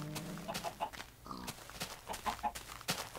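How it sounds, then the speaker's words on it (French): Farm animals in a video game, pigs grunting and chickens clucking in brief, scattered bursts over soft footsteps, fairly quiet, with no speech. "des cochons, des poulets."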